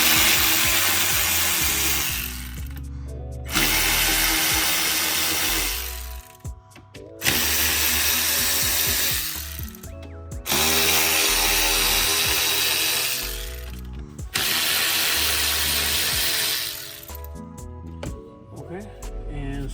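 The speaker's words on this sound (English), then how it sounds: "It needs a T25. They have 1, 2, 3, 4, 5 screws. So let's go ahead and remove them." Screws being backed out of the air box cover on a 2013 BMW X5 with a T25 bit, probably a powered driver: about four long whirring runs of several seconds each, separated by short pauses and light clicks, loud and close.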